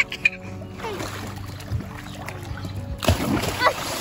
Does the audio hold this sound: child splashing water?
yes